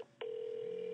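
A cell phone rings for an incoming VoIP call: a short click, then a steady electronic ringtone tone holding at an even level, fairly quiet, with no talking.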